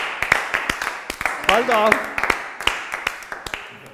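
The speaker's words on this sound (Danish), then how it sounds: "Vi giver lige en klapper lige." An audience claps along in a lively, uneven rhythm of crisp, close hand claps while a voice speaks and briefly sings over them.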